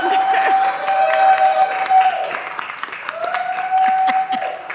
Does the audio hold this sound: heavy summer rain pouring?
no